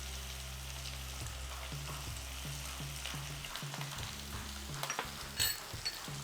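Mutton sizzles and fries steadily in a pan as chili powder goes in, a continuous close hiss with a low rumble and a few clinks and stirring knocks toward the end, no voices.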